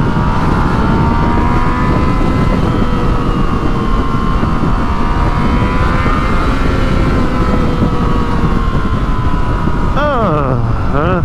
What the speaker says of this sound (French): Petit coup d'accélérateur et ça réveille.